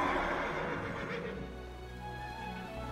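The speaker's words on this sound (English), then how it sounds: "She seems to have found herself a horse." A horse in World of Warcraft: Battle for Azeroth gives a loud, close whinny that trails off, followed by softer clip-clopping and ambient game sound.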